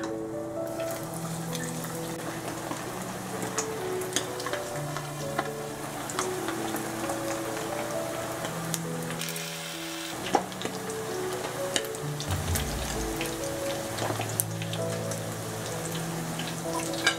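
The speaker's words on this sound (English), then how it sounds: "Frying after 6-7 minutes, it's gonna be ready for serve." Battered quail deep frying in hot oil, a dense steady crackle and patter of bubbling that runs throughout with brief louder pops, under a soft musical bed.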